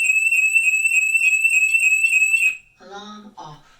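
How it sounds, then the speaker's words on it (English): A SimpliSafe home security alarm blares a piercing, steady high-pitched pulsing tone up close, then cuts off abruptly, followed by someone speaking briefly. "That alarm is very, very loud, a piercing alarm"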